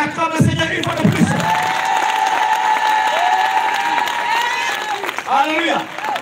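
A church congregation bursts into applause and cheering, with a dense wash of clapping and raised voices sustained for several seconds before it fades, and a loud, enthusiastic shout rising over the crowd.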